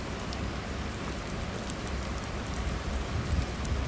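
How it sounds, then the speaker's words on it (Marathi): Heavy rain pours steadily at a rock-cut cave temple in Mumbai, a dense, even hiss of falling water with scattered drops striking nearby surfaces and no voices. "खूप जास्त पाऊस पडतो आहे"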